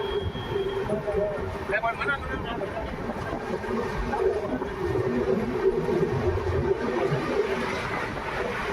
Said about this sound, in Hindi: ट्रेन डिपार्चर हो रही है Merta road junction railway station से